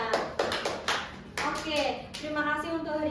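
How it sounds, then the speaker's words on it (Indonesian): Hand clapping at the close of a microteaching class session, a few people clapping in uneven bursts nearby while voices talk over the claps. "Tepuk tangan buat kita semuanya"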